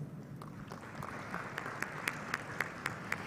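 Applause at an environmental summit in Singapore for a moderator and panelists, fairly quiet and thin, a sparse scattering of claps that grows into more distinct, individually audible hand claps toward the end.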